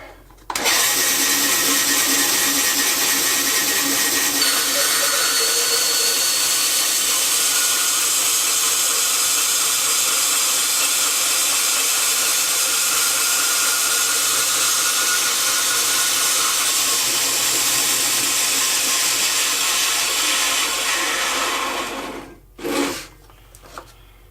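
A power saw blade makes a straight cut through metal parts, producing a loud, steady, high-pitched whine and rasp that holds for about twenty seconds. It then stops abruptly, followed by a few brief clunks.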